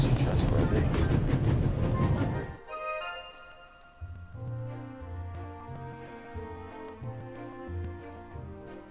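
Video game train running at full speed, a loud broadband rumble and rush for the first two and a half seconds before it drops away beneath music-like tones.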